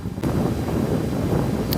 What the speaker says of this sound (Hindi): एकदम ठंडी हवा चल रही है वैसे यहाँ पे